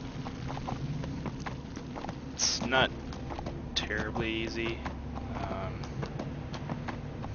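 Horse hooves clop steadily while riding in Neverwinter, a rhythmic, moderately close beat that runs through the whole stretch, with someone talking over it and brief game effects.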